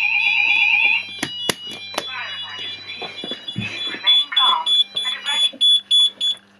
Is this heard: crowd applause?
no